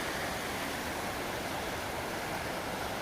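Steady rushing of a flowing river beside a winter campsite, a constant broadband water noise, close and even, with no voices.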